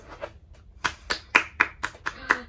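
A person claps hands about seven times in an uneven rhythm, sharp and close, after some faint quieter sounds at the start.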